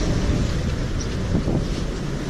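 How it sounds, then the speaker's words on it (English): Wind gusting at about 30 knots across a sailboat on rough water in Moreton Bay, a loud steady roar and rumble buffeting the microphone throughout, with no voices. "it's gusting."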